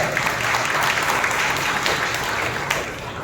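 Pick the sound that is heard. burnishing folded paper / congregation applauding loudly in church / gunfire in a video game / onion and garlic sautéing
congregation applauding loudly in church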